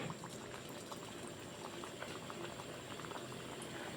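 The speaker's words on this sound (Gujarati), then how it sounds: "તેલ આપણું ગરમ થઈ ગયું છે એટલે એક એક કચોરી આપણે તળી લેશું" Hot oil bubbles and crackles steadily as onion kachoris fry, a dense fizzing sizzle, close and continuous with no voices.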